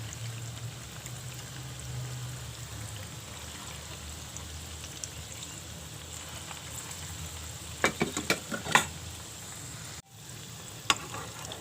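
Vada batter for a fasting-style medu vada drops into hot oil in a kadhai, a steady low frying hiss with a burst of sharp sizzles and crackles as the batter hits the oil, then a clatter.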